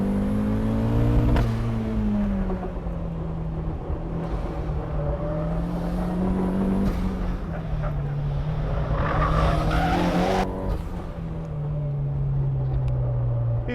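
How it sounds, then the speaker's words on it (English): A Flyin Miata Turbo on Zenith tires lets out a sustained tire squeal as the wheels lock up braking into a corner on a race track, with the engine droning and shifting pitch underneath, heard close from inside the car. "Just a little bit of lockup coming into the corner."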